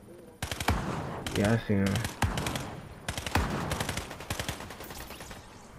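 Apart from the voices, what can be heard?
gunfire in the video game Fortnite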